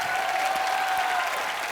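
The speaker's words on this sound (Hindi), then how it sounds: "जोरदार तालियों से स्वागत कीजिए" Steady applause from a comedy show studio audience, continuous and fairly loud for the whole stretch, with no talking over it.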